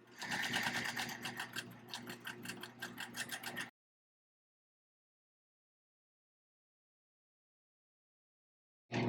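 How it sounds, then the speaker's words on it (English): Sewing machine running a gather stitch with no back stitch, a close, rapid mechanical clatter in quick bursts for under four seconds, then silence. "for a gather stitch, you're not gonna back stitch at all."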